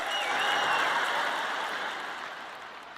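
Church congregation applauding during a French-language sermon: a steady wash of clapping from many hands, fairly distant and gradually fading over three seconds, with no voices on top.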